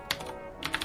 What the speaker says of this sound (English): is a Ducky 2 SF mechanical keyboard with Cherry MX Blue switches